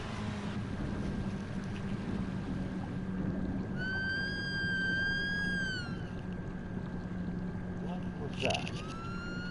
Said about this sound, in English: Sounds like a dolphin.